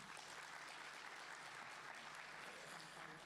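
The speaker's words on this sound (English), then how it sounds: "Another big round of applause." Sustained applause from a conference audience at an e-learning summit, a steady dense wash of clapping filling the hall without a break.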